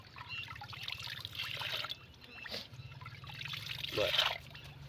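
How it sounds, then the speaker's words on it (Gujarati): Water trickles and splashes as it is poured into a container outdoors, a steady light pouring sound with a low engine-like hum underneath and a brief louder splash near the end. "આમાં તમને પાણી નાખીને બતાવું"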